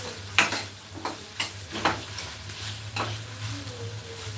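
A tomato and onion masala stirred in a pan: several distinct scraping strokes of a spoon against the pan, repeated at an uneven pace over a quiet sizzle, with no voices.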